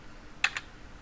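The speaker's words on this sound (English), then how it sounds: "delete the current address using the backspace key on our keyboard" Two quick taps on a computer keyboard click softly in a quiet room, close together and near.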